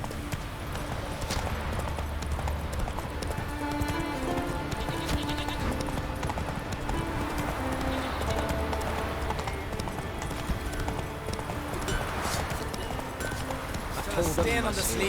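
Horse hooves trot in a steady clip-clop rhythm across the whole stretch in The Witcher 3, layered under game music with a person talking at moments.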